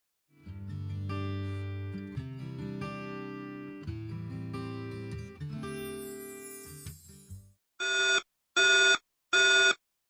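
After several seconds of a synthesized chiming melody, three loud electronic alarm beeps sound in a steady rhythm, each short and separated by brief pauses, from a SmartGuard-63A solar controller raising a 2082 grid-tied/off-grid controller abnormal alarm.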